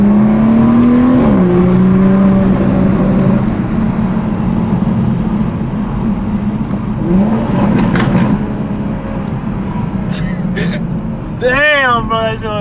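A 2021 Toyota Supra A91 fitted with a downpipe exhaust pulls hard from inside the cabin, its engine droning loud and steady with rising revs and gear changes. A voice is heard near the end.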